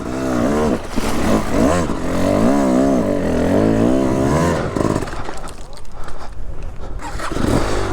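A two-stroke hard enduro motorcycle revs loudly and continuously in first gear as it is ridden, its engine note rising and falling in wavering pitch, with a rider's voice exclaiming over it.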